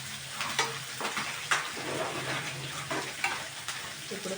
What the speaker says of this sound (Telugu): తర్వాత పచ్చిమిర్చి మంచిగా ఫ్రై చేసుకొని అల్లం వెల్లుల్లి పేస్ట్ కూడా వేసుకున్నాం